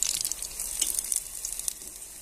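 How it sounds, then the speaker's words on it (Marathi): Okra (bhindi) fries in hot oil over a medium gas flame, giving a steady, close crackling sizzle with small bursts of popping and no voices. "गॅस मध्यमच ठेवायचा फुल करायचा नाही म्हणजे मग आपल्याली भेंडी आतून पण चांगली तळल्या जाईल"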